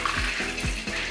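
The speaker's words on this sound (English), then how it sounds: "It's really just the actual ginger itself and the final top layer of soil that we added that I'm irrigating right now." Water splashes steadily onto potting soil and ginger in an indoor pot, a close, continuous pouring wash with slight rhythmic surges.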